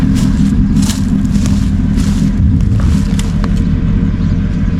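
A 1994 Lexus LS 400 sedan cruising low on the road, a loud, constant engine hum and heavy road rumble heard from inside, with faint bumps and rattles over the drone.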